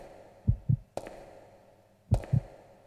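Heartbeat pulses in Resident Evil Code: Veronica: two paired thuds, each a quick lub-dub, over a faint hum, with a sharp click between them and no talking.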